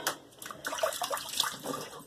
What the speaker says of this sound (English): Oh, that cold water feels so good.